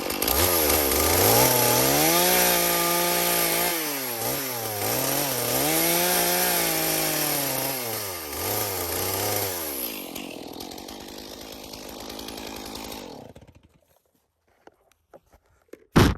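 A chainsaw cuts into cedar logs, its engine droning loud and close with repeated rising and falling pitch as it bites the wood, then winding down and cutting off near the end.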